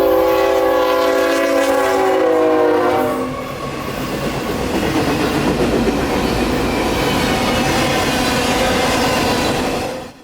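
A CSX freight train at night on city rails sounds a sustained horn chord for a few seconds, then its cars rumble and clatter past steadily and close, ending abruptly.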